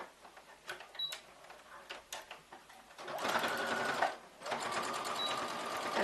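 Domestic sewing machine running a straight stitch forward and in reverse to backstitch the seam: scattered ticks and clicks at first, then a loud, steady whirring hum that dips briefly and resumes.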